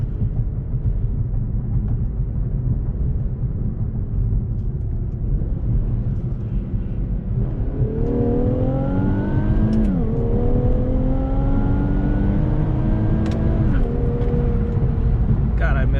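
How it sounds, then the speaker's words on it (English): A tuned Nissan VR30-powered car pulls hard in third gear after a curve, engine note rising in two climbing sweeps with a brief shift-like dip, heard from inside over steady road rumble, a voice talking over parts. "it's enough to do a third gear pull after the curve here"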